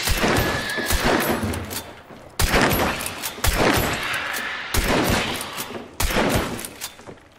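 Gunshots ring out in the Western-themed shooter Hunt: Showdown, loud heavy blasts at irregular intervals, each with a long echoing tail that fades before the next shot.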